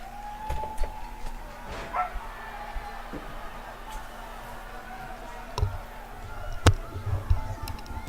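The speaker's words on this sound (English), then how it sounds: "My dogs are barking" Dogs bark and yip intermittently at a distance around a home, with short scattered barks and whimpers over a low background hum and occasional faint talk.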